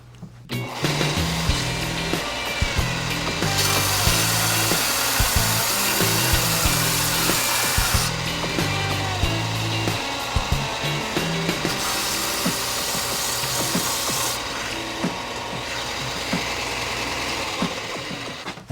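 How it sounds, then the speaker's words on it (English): A belt sander smooths the bandsawn belly of a small wooden ladybug body, a loud, continuous abrasive roar that swells and eases as the wood is pressed against the belt, with no talking. "I want to take it over to this belt sander here"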